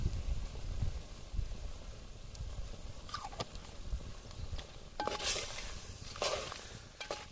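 A spoon scrapes and stirs chicken with ginger in a frying pan, giving a few faint scraping strokes over a soft, steady background hiss.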